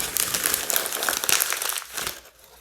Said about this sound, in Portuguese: o que acontece se eu amassar esse papel?